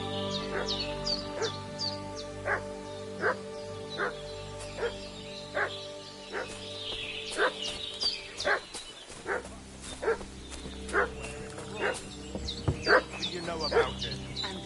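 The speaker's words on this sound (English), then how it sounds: "What's that dog making such a fuss about?" A dog barks repeatedly in Kingdom Come: Deliverance 2, sharp evenly spaced barks continuing steadily at moderate distance, with occasional bird or crow calls in the background.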